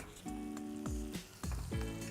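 Tomatoes tossed in hot butter with whole spices and ginger garlic, giving a soft steady sizzle with clinks of a utensil against the pan.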